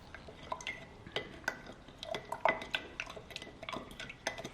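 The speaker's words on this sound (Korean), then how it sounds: "그리고 설탕을 넣어 잘 녹여주세요." A spoon stirs sugar into black tea in a glass jar, with rapid clinking and scraping against the glass, close and continuous in an uneven rhythm.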